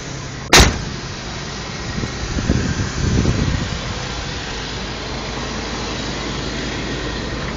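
The V6 engine of a 1977 Oldsmobile Cutlass Supreme runs quietly with a steady low rumble. A sharp click comes near the start, and the rumble swells briefly in the middle.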